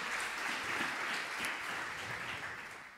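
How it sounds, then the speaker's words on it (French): Church congregation applauding a welcome, a dense, even wash of many hands clapping at moderate distance, sustained for a few seconds and easing slightly at the end. "On va t'applaudir."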